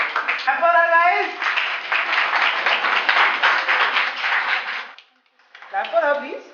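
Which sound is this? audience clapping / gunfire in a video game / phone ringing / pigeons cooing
audience clapping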